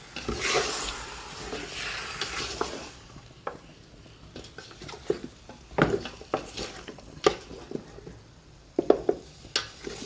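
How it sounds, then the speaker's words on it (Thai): Chicken and pork sizzle as they are stir-fried in a large pot while a utensil scrapes and stirs, with irregular clanks and scraping bursts, close up, no talking. "ใส่ไก่ใส่หมูลงไปแล้วเราก็ผัดนะทุกคน"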